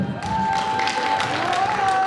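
Audience applause fills a university KVN comedy cup final hall, a dense steady wash of clapping with a sustained tone and voices running underneath for about two seconds.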